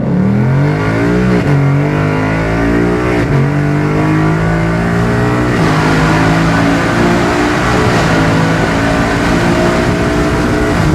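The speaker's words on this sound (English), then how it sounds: "This Mustang GT is equipped with Ford's active exhaust system." A loud 2018 Ford Mustang GT V8 engine with active exhaust revs and accelerates continuously, its deep exhaust note rising and falling in pitch, close and powerful throughout.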